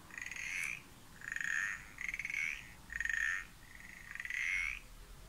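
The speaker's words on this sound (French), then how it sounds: "mais on a entendu la grenouille" Electronic frog croaks from a button on a children's sound book, five rasping croaks in a steady rhythm, clear and close with no talking.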